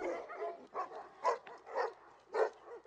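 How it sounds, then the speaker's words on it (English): Tibetan dogs at a breeding farm give a run of about six barks and yelps in an uneven rhythm, fairly close and clear, with no talk over them. "Gao turned it into his own breeding farm for Tibetan dogs."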